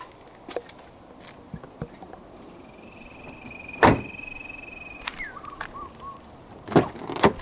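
A Volkswagen Tiguan Allspace's power window runs with a thin, steady electric whine for about two seconds and stops with a soft clunk, among quiet clicks and taps in a still cabin.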